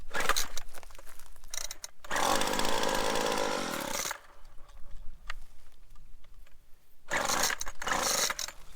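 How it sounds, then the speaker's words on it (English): A weed whacker is started and roars to life in a loud two-stroke burst, sputters and drops back, then revs up again near the end. "Has anybody ever figured out how to start one of these dang weed whackers?"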